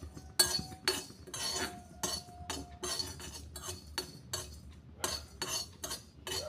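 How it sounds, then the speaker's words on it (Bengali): Fennel seeds being stirred in a kadai over a low gas flame, a utensil scraping and clinking against the metal in an irregular run of sharp, close strokes with no talk. "লোতে রেখে একটু নাড়িয়ে নিচ্ছি"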